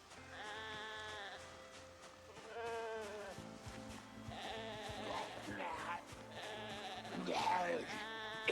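Sheep in the survival video game Project Zomboid bleat again and again, several drawn-out wavering calls over game ambience, with someone talking intermittently beneath them.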